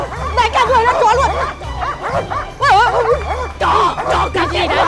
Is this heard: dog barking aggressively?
yes